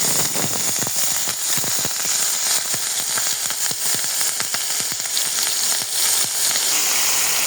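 Onion paste hits hot oil and ghee that already holds cinnamon, cloves and white cardamom, giving a loud, steady sizzle and crackle with rapid popping throughout, close up and with no voices.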